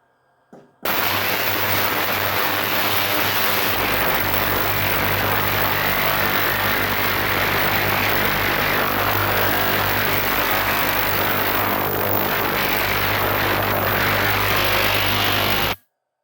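A Chinese dual-frequency ultrasonic cleaning bath switched into its second mode, a loud steady broadband hiss and hum that starts abruptly, holds evenly for about fifteen seconds, then cuts off.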